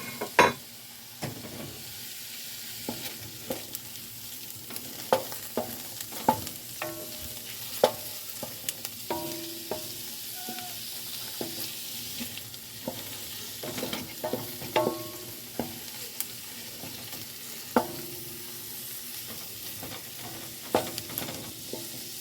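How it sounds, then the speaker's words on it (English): Cut-up sausage sizzles and fries with browned onions in a big pot, with steady crackling and frequent stirring scrapes and knocks that give the large pot a drum-like clatter, fairly quiet and close, with no talking. "We got our onions good and browned. Now we're just going to add our cut up sausage."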